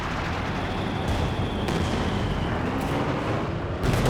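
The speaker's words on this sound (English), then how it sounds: "Delayed fuse barrage" Delayed-fuse artillery barrage in Company of Heroes 2, a continuous heavy rumbling roar of distant explosions layered together, with a few sharper blasts punctuating the steady din.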